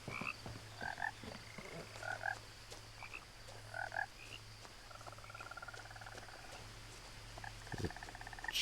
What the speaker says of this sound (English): I love the sound of frogs.